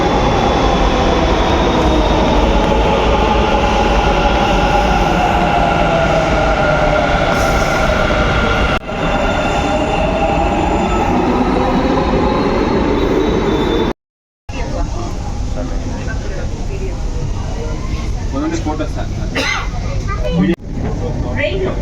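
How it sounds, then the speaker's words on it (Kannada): A metro train rumbles loudly into a station, a long roaring rush with a brief metallic squeal, while voices and children are heard in the background. "ಮೆಟ್ರೋ ಬಂತು"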